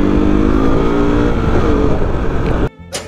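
A KTM RC sport motorcycle rides through city traffic, its engine drone loud and steady with harmonic tones, before cutting sharply near the end to quieter wind or road noise.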